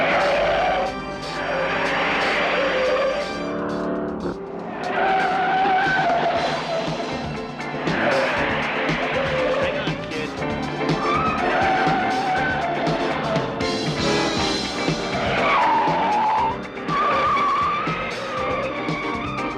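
A fast, maneuverable car drives hard with tires skidding, engine roaring and tires squealing in repeated surges over a background of dramatic music, with no talk.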